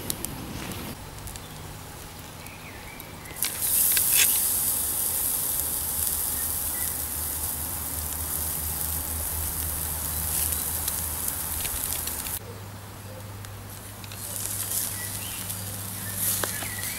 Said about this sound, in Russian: Вот такие очень ароматные головы помогают прекрасно разжигать костер без специальных жидкостей.